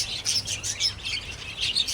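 Pet lovebirds chirping: rapid high-pitched tweets in repeated bursts, close and fairly loud, with no talk.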